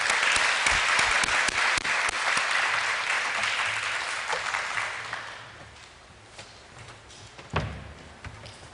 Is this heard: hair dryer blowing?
no